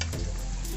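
Akara bean fritters frying in hot oil: a steady, dense sizzle and crackle close by, continuous and even throughout, with no voices.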